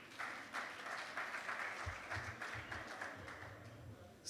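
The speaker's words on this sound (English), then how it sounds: "Please, can we clap for the husband?" A live-event audience claps for a husband: sustained, even applause from a crowd with a low rumble beneath it, continuing for several seconds without a break.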